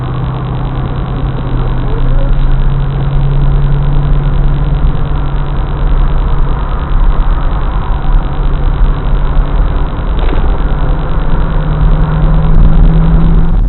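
A 1994 Corvette C4 Targa cruising a freeway with the roof off, its steady low engine hum blending with continuous loud broadband wind rush that stays constant throughout, with no talking.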